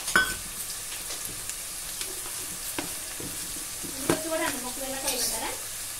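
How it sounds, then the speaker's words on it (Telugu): Ingredients frying and being stirred in a pan, a steady close sizzle with occasional scraping and clinks of a spoon, running continuously without talk. "చూడండి 5 నిమిషాలు వేయించుకోవాలండి"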